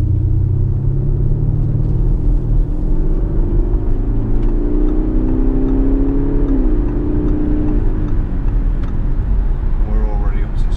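A 2016 Audi A6 Avant with the 3.0 BiTDI diesel engine accelerates on the road, its loud rising drone climbing through the gears with a steady rumble, then easing near the end.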